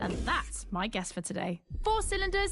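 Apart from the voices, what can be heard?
No everyday noise stands out behind the speech.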